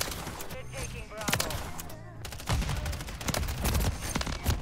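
Bursts of gunfire in Modern Warfare, loud, rapid shots in clusters with short gaps, while a player talks over the action.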